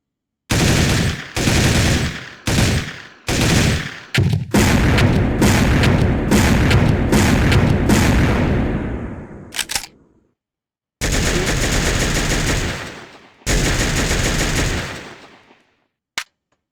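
M4 rifle in Soldier of Fortune II Unreal Edition, fired in several short bursts and single shots, then a long sustained automatic burst, loud and close with sharp cutoffs and brief silences between volleys.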